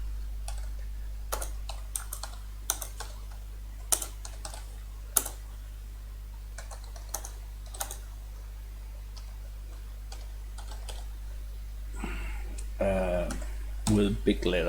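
Someone types notes on a computer keyboard while reviewing poker hands: irregular, crisp key taps, some louder than others, run steadily over a constant low hum, with a voice talking near the end.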